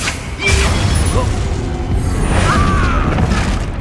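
An explosive Confringo spell from the Hogwarts Legacy video game bursts with a loud boom and crackling debris, then more rumbling blasts and game effects, all loud and continuous.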